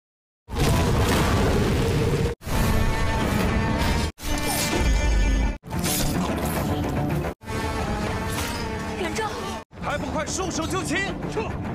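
A bomb explodes in a film fight scene as a series of loud blasts and crashes in separate bursts, with sharp cuts of near silence between them. Film sound mixes in throughout.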